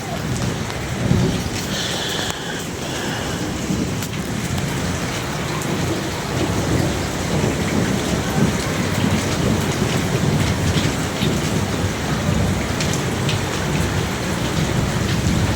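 Heavy rain pours steadily and loudly throughout, a dense hiss of drops striking surfaces, with low rumbles of thunder rolling underneath. No one speaks.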